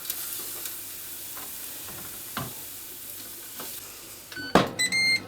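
Liver and bacon sizzling in a pan while cooking, giving a steady crackling frying hiss with occasional stirring scrapes, then a few bright electronic beeps near the end.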